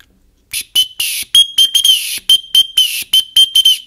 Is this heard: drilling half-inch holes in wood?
no